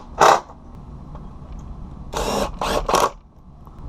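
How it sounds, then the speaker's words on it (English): A power drill whirs in a short burst, pre-drilling wooden fence pickets, then several more quick bursts close together after a pause, close and fairly loud over a quiet background. "I always like to pre-drill so you don't end up splitting the pickets."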